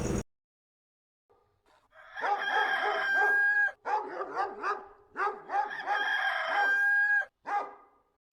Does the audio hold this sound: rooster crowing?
yes